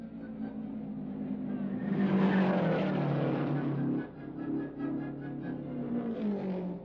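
Race cars in the 1964 Indianapolis 500 roar past at moderate distance, the engine drone swelling and fading in waves as cars pass.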